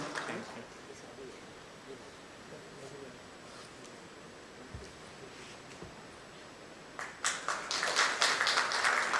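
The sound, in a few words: audience applause at a memento presentation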